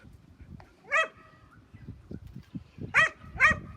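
A small dog gives three sharp barks, one and then a quick pair near the end, over a muffled outdoor background with faint low rumbles between them.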